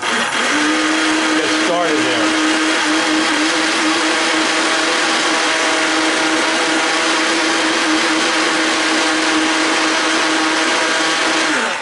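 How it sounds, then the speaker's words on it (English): A mini blender whirs through coffee with butter, a loud steady motor whine holding one pitch throughout, with a brief stutter near the start and a few spoken words over it. "This kind of goes crazy when you first turn the mini blender on"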